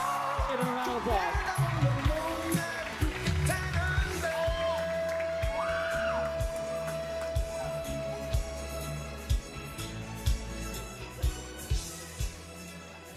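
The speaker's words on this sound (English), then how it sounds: "Give him a round of applause." A stage audience at a UCLA Korean Culture Night show applauds and cheers with whoops, a steady crowd roar and sharp claps running throughout, with voices mixed in.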